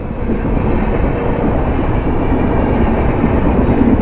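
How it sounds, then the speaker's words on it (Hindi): An express train passing close by on the tracks, a loud continuous rumble of wagons and wheels that holds steady through the whole stretch with no voices. "वो रही ट्रेन, वाह"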